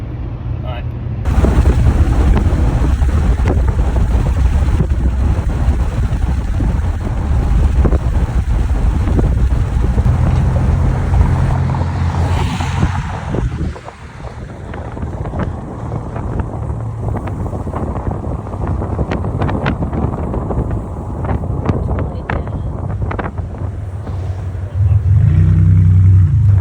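A car drives along a Florida road with heavy wind buffeting the microphone, a loud continuous rumble that dips briefly midway before building again, with occasional sharp knocks.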